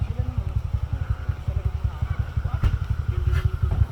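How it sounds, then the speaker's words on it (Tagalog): Several dirt and trail motorcycles idling and revving on a trail, among them a Beta, with a steady low engine throb and pulsing rhythm running under nearby voices. "Ang gaganda ng motor namin bisita."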